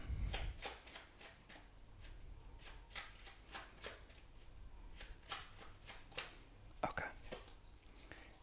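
Tarot cards are shuffled close up in a run of quick, soft riffling snaps and papery slaps, with a few louder card drops near the end, while a quiet voice murmurs in the background.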